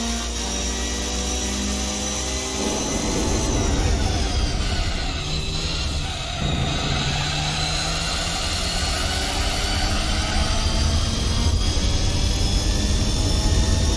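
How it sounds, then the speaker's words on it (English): A Mitsubishi Lancer Evolution IV's exhaust in Gran Turismo 4 drones steadily with shifting pitch, rising and falling through gear changes, loud and continuous with no voices. "the exhaust note coming out from this Lancer Evolution 4"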